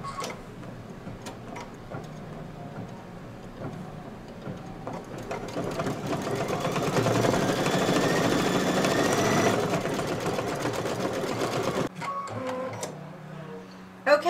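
An embroidery machine works a black satin stitch on a split-hooped fabric shelves design for a candy corn quilt shoppe piece, its rapid mechanical needle ticking continuing steadily and close for the whole stretch, briefly swelling louder midway.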